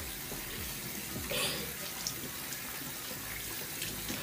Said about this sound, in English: I'm about to wash my face.